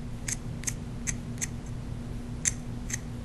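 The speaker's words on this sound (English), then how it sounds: "I'm going to take my blade and just shave" A craft blade shaves the tip of a Copenhagen-blue watercolor pencil over wet paper, giving about seven short, crisp scraping strokes at an uneven pace, faint and close, over a steady low background hum.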